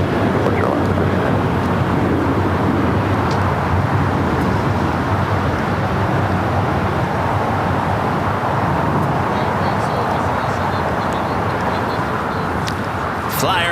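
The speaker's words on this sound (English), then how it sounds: "Next takeoff, Alaska Airlines Flight 1398, heading to Laredo. It's a 737-900ER." An Alaska Airlines Boeing 737-900ER takes off at LAX, heard as a loud, steady, broad jet roar that holds unbroken for the whole stretch.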